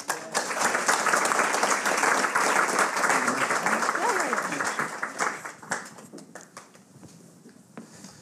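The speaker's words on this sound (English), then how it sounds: "I would like also to have a round of applause for Mehmet and Savala" Audience at a Nowruz celebration gathering bursts into strong, steady applause that fills the room, then thins out into scattered claps and fades toward the end.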